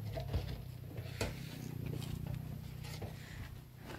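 Rain patters during a rainy spell in Himachal Pradesh, a quiet, close, irregular tapping of drops with occasional sharper knocks over a low rumbling background.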